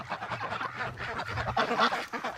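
Ducks quacking close by in a steady, busy chorus of overlapping quacks and honking calls from a flock near a nesting area, loud and continuous with no talk.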